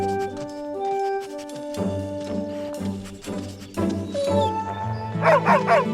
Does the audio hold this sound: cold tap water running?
no